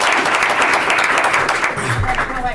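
A room full of people at a school board of education meeting applauds, with dense, sustained clapping that is loud and close throughout and fades slightly near the end.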